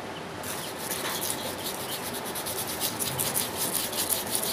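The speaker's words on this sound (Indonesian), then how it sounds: "Ini kita amplas dulu sobat." Sandpaper rubs steadily against the rusty shaft of a Cosmos 9SY mini electric fan, giving a close, continuous scratchy rasp with quick back-and-forth strokes and no voices.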